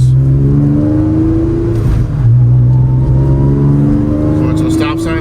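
An Acura TL Type-S with a six-speed manual pulls along in third gear, its engine droning loud and close with steady rising tones, while someone speaks over the cabin noise.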